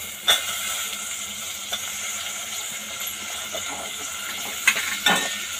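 Chopped tomatoes and onion fry in oil in a pan, making a steady moderate sizzle broken by a few sharp clinks and scrapes of a stirring utensil, with no voices.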